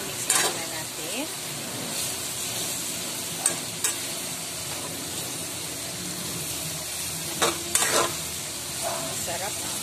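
Pork giniling with sitaw sizzling in a pan as a utensil stirs and scrapes through it, steady frying hiss with occasional louder clatters, no voice heard.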